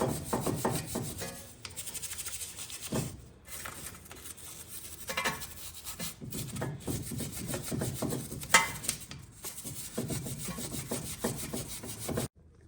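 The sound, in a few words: wire brush scrubbing inside of brake caliper piston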